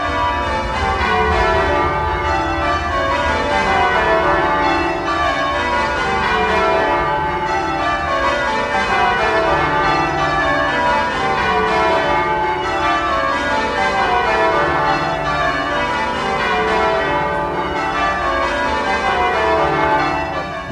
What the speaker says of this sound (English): listened to this unique musical ensemble